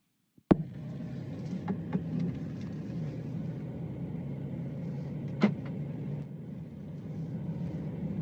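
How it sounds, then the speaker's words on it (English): A car driving while searching for parking gives a steady low engine and road rumble inside the cabin, with a sharp knock near the start and a few faint clicks and bumps. "There's going to be some car noise at first"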